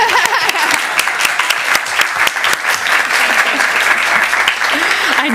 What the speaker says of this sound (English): You guys can clap for that one.